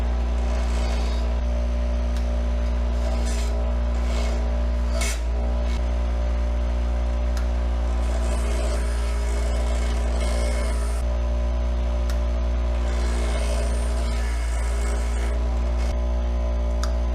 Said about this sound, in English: Basically what I'm doing with the wire wheel is cleaning the threads up, getting rid of the old Loctite.